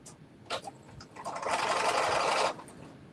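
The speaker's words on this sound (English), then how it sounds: "I'm going to just do like an edge stitch." Close up, a sewing machine runs an edge stitch along fabric in one fast, steady burst of about a second, with a few short clicks and handling sounds before it.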